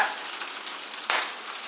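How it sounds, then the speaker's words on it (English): Heavy rain on a skylight makes a dense, continuous hiss that could pass for sizzling, with a louder gust of spatter near the middle, heard from just below. "Oh, it's raining a lot."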